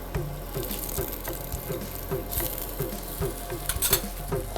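Millet-based food frying in a pan as it browns on its second side: a close, steady sizzle with light rhythmic scrapes and taps from a utensil, and a brief bubbling burst near the end.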